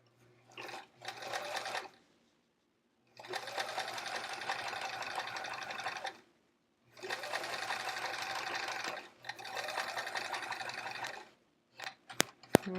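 A sewing machine stitches pencil pockets for a travel art folio in four sustained whirring bursts separated by pauses, close and steady, ending with a few sharp clicks.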